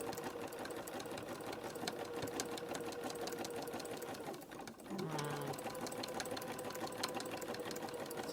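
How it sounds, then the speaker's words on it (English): A sewing machine runs steadily as it stitches through thick fabric-wrapped rope, a rapid mechanical whir with a brief dip and slowdown midway before it picks back up at an even pace. "My sewing machine's not liking it too well, but she's working it."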